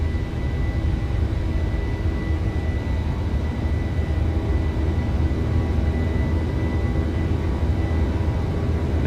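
A PMDG Boeing 737-800 jet climbing out after takeoff in a flight simulator, a steady, loud engine roar with a constant low rumble and a faint whine, no voices.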